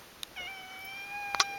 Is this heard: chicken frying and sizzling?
no